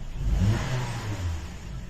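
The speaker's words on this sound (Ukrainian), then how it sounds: "Запускаємо двигун. Запускається з півоберта" A 2016 Honda CR-V engine starts and runs after fuel injector cleaning, a close, steady mid-pitched rumble with a slight rise and settle in revs.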